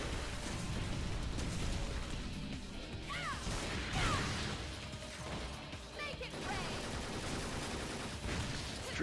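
Heavy blasts and crashing impacts from Devil May Cry 4, a shotgun stinger attack, burst out amid dense, noisy combat clatter and debris at a fairly low level.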